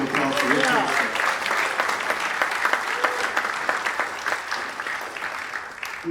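An audience applauds at a concert. Dense, steady clapping fills the whole stretch, with a voice heard briefly at the start.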